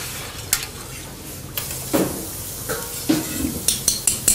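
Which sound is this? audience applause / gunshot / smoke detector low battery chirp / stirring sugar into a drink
stirring sugar into a drink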